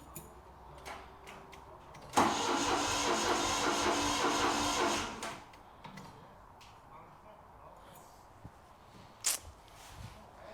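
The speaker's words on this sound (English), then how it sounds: "give it a quick turn over before I start the compression test. So hopefully this turns over now" Ford Capri V6 engine cranking over on the starter with some spark plugs removed, a steady whirring churn lasting about three seconds, close and moderately loud, then stopping.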